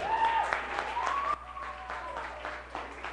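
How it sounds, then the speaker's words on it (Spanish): Church congregation applauds the teachers, steady clapping heard at a moderate distance with voices over it. "Un aplauso fuerte para los maestros."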